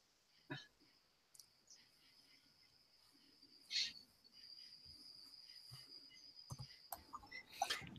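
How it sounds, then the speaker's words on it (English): Crickets chirp at night in a steady high trill that carries throughout, faint and distant. Scattered clicks and a few soft knocks sound nearby. "Now we hear the crickets."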